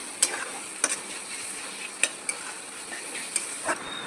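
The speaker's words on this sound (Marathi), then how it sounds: "आता आपल्याला त्यामध्ये कांदा टाकून घ्यायचा आहे आणि आले लसणाची पेस्ट टाकून घ्यायची आहे आणि ते चांगल्या प्रकारे परतून घ्यायचं आहे." Onion and ginger-garlic paste sautéing in a pan for veg biryani, a steady soft sizzle broken by a few sharp spatula scrapes and clinks, fairly quiet and close with no voices.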